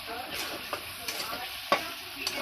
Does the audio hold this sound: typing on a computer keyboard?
no